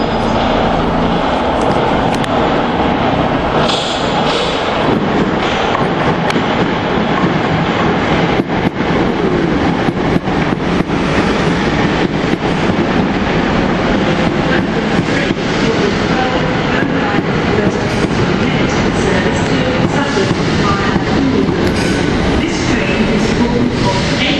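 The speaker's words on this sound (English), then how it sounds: "This is the train for Sevenoaks, which calls at Denmark Hill." A London passenger train bound for Sevenoaks via Denmark Hill runs on rails with a loud, steady rumble and rattle that continues throughout, with no voices.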